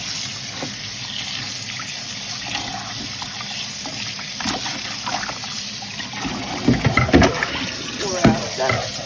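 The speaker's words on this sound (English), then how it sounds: "I'm going to rinse off it with cold water." Running cold tap water trickles and splashes steadily over saltfish being rinsed, with a few louder splashes and handling sounds near the end.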